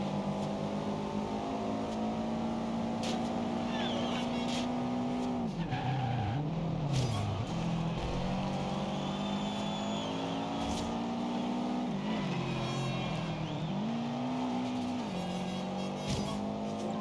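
A car in Forza Horizon 2 drives steadily with its engine droning, its tires squealing in long sweeping bursts as it corners, loud and close with no talk.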